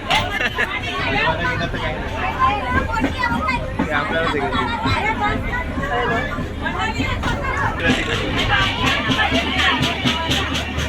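Dense crowd chatter fills a packed train compartment, many overlapping voices talking at once with steady rumbling background noise throughout.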